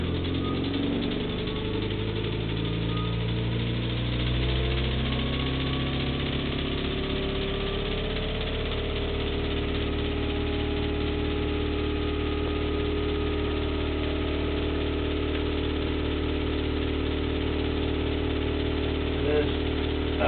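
An electric motor in a Wardforce device test hums steadily with layered tones that rise in pitch as it speeds up, continuous and fairly loud throughout with no talk over it.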